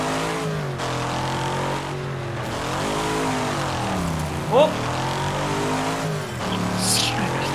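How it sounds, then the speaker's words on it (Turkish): A racing car engine in the game Wreckfest roars and revs continuously, its pitch rising and falling through gear changes, loud and close, with someone talking over it. "araba ne kadar sesliymiş lan"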